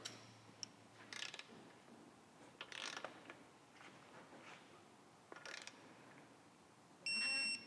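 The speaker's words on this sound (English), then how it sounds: "I'm just going to grab a torque wrench and we're going to torque each of these to just 10 foot-pounds" A torque wrench ratchets and clicks while bolts are tightened to 10 foot-pounds on a Road King's 41mm-to-49mm front end conversion, giving several short bursts of ratcheting near and clear, then a brief high electronic beep at the end.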